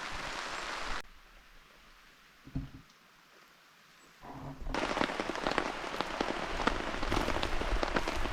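Rain patters on a tarp at a lakeside wilderness camp in Temagami, first muffled and light, then swelling into a loud, dense, steady drumming.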